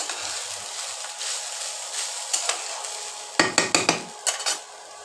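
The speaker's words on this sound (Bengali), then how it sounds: "ভাতটাকে একটুখানি আগে ভেজে নিতে হবে বন্ধুরা, ঘি দিয়ে পুরো মাখিয়ে নিয়ে" Rice being fried in ghee in a pot, a steady sizzle under repeated loud metal spoon scrapes and clinks against the pan, with a rapid burst of stirring strokes toward the end.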